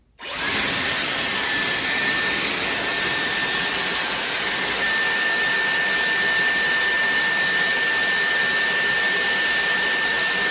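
A Dyson Airwrap hair styler switches on with a click and runs as a loud, steady, high-pitched whine and airflow rush, continuous and close, with no speech.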